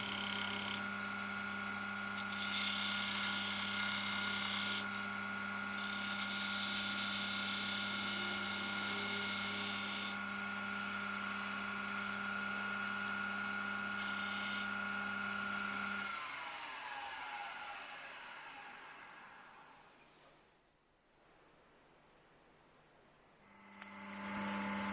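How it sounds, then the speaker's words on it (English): A lathe spins a boxwood piece as a round skew chisel cuts grooves, giving a steady whining tone with bright scraping bursts, then winding down into quiet before a short sharp cut returns at the end. "We can detail the boxwood sections with a few grooves using the round skew."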